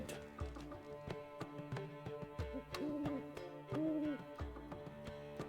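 An owl hoots in The Witcher 3: Wild Hunt, two clear, mid-pitched calls standing out over soft game music and ambient tones, with light tapping and clopping in the background.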